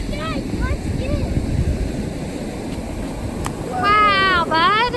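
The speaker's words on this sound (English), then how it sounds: "Look at those waves, though." Ocean waves break at a South Florida beach after Hurricane Dorian, a constant rushing surf mixed with wind buffeting the microphone, while people talk over it, more loudly toward the end.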